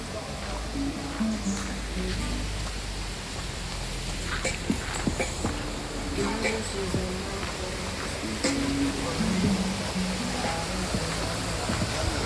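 Water pouring at Balagbag Falls, a steady broadband rush filling the whole stretch, with occasional voices and handling noises over it.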